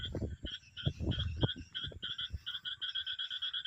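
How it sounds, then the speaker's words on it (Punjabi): Frogs croak after heavy rain in a steady, rhythmic chorus of rapid repeated calls, moderately distant, with lower irregular rustling and knocks nearby. "ਕਿਵੇਂ ਡੱਡੂਆਂ ਦੀ ਆਵਾਜ਼ ਆ ਰਹੀ ਹੈ"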